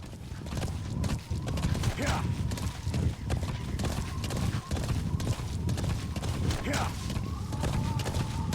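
Rhythmic hoofbeats clatter steadily throughout, a horse galloping in the video game Metal Gear Solid V: The Phantom Pain, with a busy game soundscape and occasional sharp sweeps behind.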